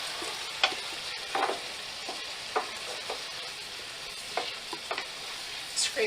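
Dry white wine poured into a hot pan to deglaze it for French dip sandwiches, giving a steady sizzle with scattered spatters and scraping taps from a utensil, close and moderately quiet, with no voices.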